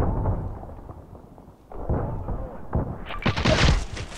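A grenade goes off in the online shooter Contract Wars amid game noise, with several sharp bursts clustering near the end, while someone talks over the action throughout.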